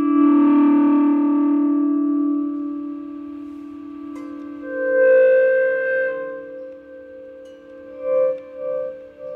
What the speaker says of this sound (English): one of the main effects that I do is actually with my hands, which is a volume swell